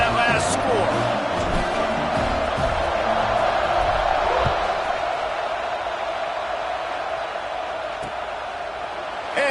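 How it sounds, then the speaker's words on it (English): A stadium crowd at a Michigan versus Penn State college football game buzzing after a touchdown, a steady loud roar of voices with scattered shouts and a commentator talking over it. "this crowd is buzzing after that last score"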